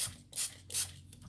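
A spray bottle mists water onto watercolor paper during an aqua pigment painting session, giving two bright, hissing bursts close up with a quieter pause between them and no voices.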